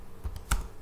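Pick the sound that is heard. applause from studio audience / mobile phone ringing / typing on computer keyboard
typing on computer keyboard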